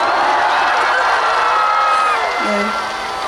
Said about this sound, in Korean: 물 마시면 이거 환호를 해줘야지 안 어색하거든요.